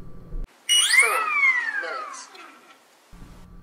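A Castle Talon ESC on a TT Raptor E550FBL helicopter plays its arming tones: a quick rising series of electronic beeps and chirps, loud and close, ending in silence, with brief background noise before and after.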